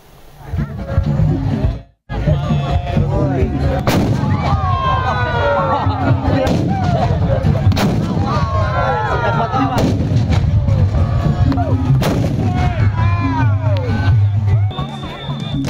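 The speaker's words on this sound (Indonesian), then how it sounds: "tradisi adu meriam raksasa atau kulwung di momen akhir libur Lebaran" Giant kuluwung cannons fire in a Lebaran holiday cannon-dueling tradition, sending repeated loud booming blasts over a large outdoor crowd. The crowd's babble and cheering continue throughout.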